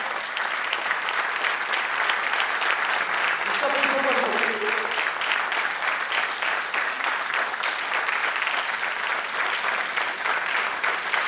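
A crowd bursts into sustained applause, loud and steady clapping that continues throughout without a break.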